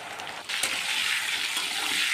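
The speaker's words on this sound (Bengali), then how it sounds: "নুন আর হলুদ দিয়ে আলুটা একটু লাল লাল করে ভেজে তারপর তুলে নেব।" Large potato pieces frying in hot mustard oil with salt and turmeric: a quieter hiss that swells suddenly into a loud, continuous sizzle of spattering oil.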